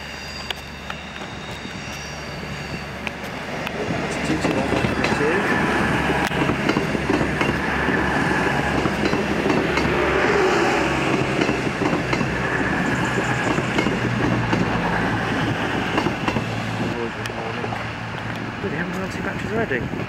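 A Bangor to London Euston passenger train passes through Crewe station, its rumble and wheel clatter swelling after a few seconds and then holding loud and close throughout.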